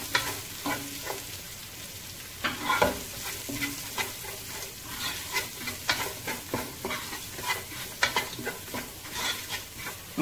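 Chopped onion fries in a pan for rava pulao, a busy sizzle broken by frequent clattering scrapes and knocks of a spoon stirring, close and fairly loud throughout.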